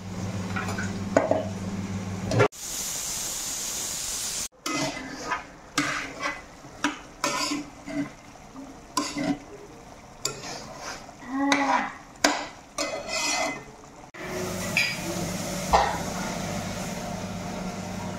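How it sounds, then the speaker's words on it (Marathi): Tempering for pav bhaji made with chopped vegetables sizzles in a pan while a spoon scrapes and clatters against the metal in irregular bursts, with a few sharp cuts between steady frying stretches. "फोडणी द्यायला सुरू आहे."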